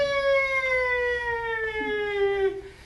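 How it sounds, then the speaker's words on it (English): A wailing siren with a slowly falling pitch, loud and steady, with faint background noise underneath. "But that sound is broken by the sound of sirens,"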